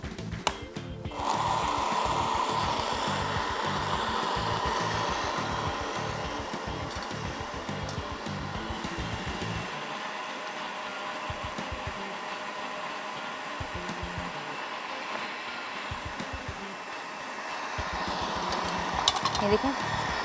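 A kitchen blender whirs continuously, steady and fairly loud, as ingredients for Egyptian koshari are blended, with someone talking over the motor throughout.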